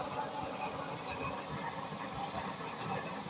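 A steady, low roaring rush of a used-oil stove burner flame, continuous and even throughout, with no voices.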